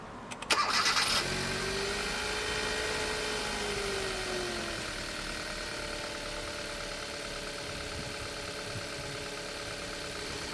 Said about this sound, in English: then we can start the car